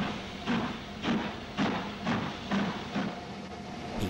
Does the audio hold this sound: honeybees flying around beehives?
no